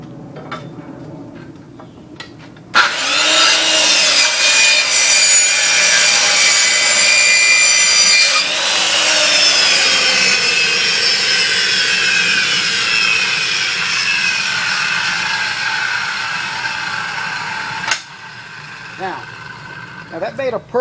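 A circular saw spins up loudly and bites through wood along a speed square for a 45-degree cut, a steady high whine lasting about fifteen seconds before winding down, followed by a few light clunks.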